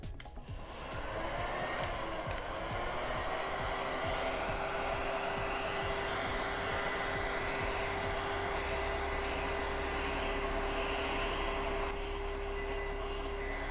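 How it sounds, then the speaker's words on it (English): A hair dryer set to hot and high blows steadily and continuously, drying waterslide decals on a Boba Fett jet pack prop, with a constant whooshing hum and no talk. "just turn your hairdryer to hot and high"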